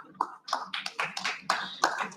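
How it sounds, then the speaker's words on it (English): Brief, sparse applause for a panelist invited on stage at a national seed congress, a handful of distinct hand claps in a loose uneven rhythm, fairly close and moderately loud. "Please give him an applause."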